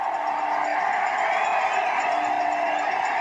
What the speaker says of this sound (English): The sellout crowd at the Coliseum rises out of their seats.